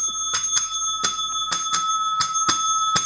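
A bright bell, rung for joy, sounds about nine sharp rings in quick irregular succession, each ring clear and close with a short shimmering decay, and no voices.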